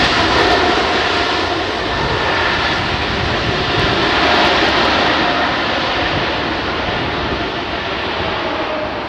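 Jet airliner engine at windy London Heathrow Airport, a loud, continuous broadband roar that stays steady throughout, with no talking.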